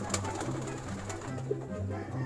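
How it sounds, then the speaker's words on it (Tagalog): A ringed domestic pigeon coos softly, a few low, faint calls spread over a couple of seconds against quiet background rustle. "ito yung kalapate"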